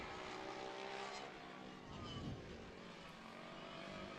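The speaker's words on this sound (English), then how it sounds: "the junior drivers are they're not wasting any time getting on the throttle and getting used to this track" Racing karts at the Tucson Kart Speedway during the 2024 UAS Grand Nationals, junior drivers on the throttle, a steady, fairly distant buzzing engine drone that swells slightly midway, with no talking.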